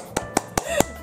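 A lone person claps four times in a slow, even rhythm, each sharp close clap separated by a short pause, with no talking in between.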